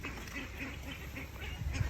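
A large flock of some 1,500 to 2,000 ducks on a mixed farm quacks in a steady rhythmic chorus, moderately distant and continuous, with no talk.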